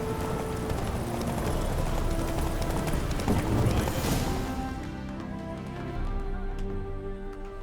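A horse gallops in The Witcher video game, its hooves clip-clopping in a fast, steady rhythm at moderate loudness, easing slightly toward the end.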